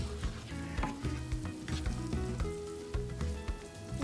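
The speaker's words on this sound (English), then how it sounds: "I sauteed this onion and green peppers and the curry powder" Onion, green peppers and curry powder sauté in a pan for curry rice, giving a steady close sizzle with frequent scraping stirs and light clicks throughout, no voices.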